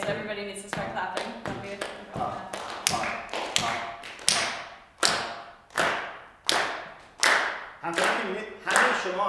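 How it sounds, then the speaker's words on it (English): An audience clapping together in a fixed rhythm, sharp, loud unison claps landing in a steady repeating pattern, each one ringing briefly before the next. "Okay, so everybody needs to start clapping."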